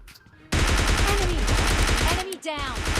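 Rapid automatic gunfire from roadside houses in PUBG Mobile Lite, a dense near stream of shots that breaks off briefly and resumes, with a voice talking underneath.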